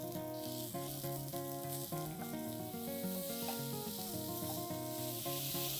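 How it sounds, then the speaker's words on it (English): Sliced mushrooms with ginger and garlic cooking over high flame, a faint, even sizzle running continuously beneath prominent background music. "add in your sliced mushrooms. And now we're going to cook this on high flame."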